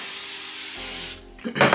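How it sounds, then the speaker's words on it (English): Spray product misted onto the top of a burgundy plum pre-layered wig: a long steady hiss, then a brief pause and a short burst of handling noise. "So I'm gonna go ahead and spray the top."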